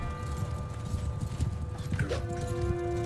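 Cavalry horses galloping in the video game Mount & Blade 2: Bannerlord, a dense steady drumming of hooves with whinnies and battle noise mixed in, loud and continuous.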